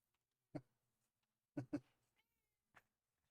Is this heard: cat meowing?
yes